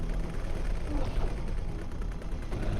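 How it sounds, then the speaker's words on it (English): Ship weapon modules fire in the space game X4: Cradle of Humanity, a dense, continuous clatter of rapid shots and mechanical rattling, loud, under a faint voice. "Let's stop to see if all my modules now just fire."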